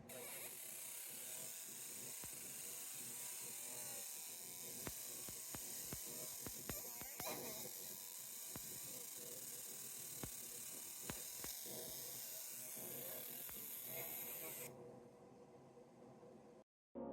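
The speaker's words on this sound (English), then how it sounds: "Got our fume extractor on." Fume extractor running steadily while a fiber laser engraves a metal flask: a constant close airy hiss with a faint hum, broken by brief ticking clicks, holding level before dropping off near the end.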